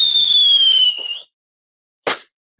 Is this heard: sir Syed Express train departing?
no